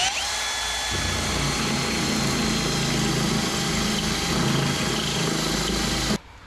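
A power drill whines steadily at high speed for several seconds, drilling out spot welds on a Jeep Wrangler JK body, grinding continuously before stopping abruptly.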